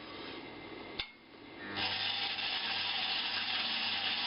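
A slow-turning lathe running at about 130 RPM gives a steady, continuous broadband whir with a low hum, briefly interrupted by a sharp click before the cutting noise builds and holds loud to the end.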